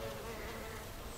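Bees buzz steadily among flowering hellebores in a tidy greenhouse garden, a continuous close insect drone filling the short moment without any voices.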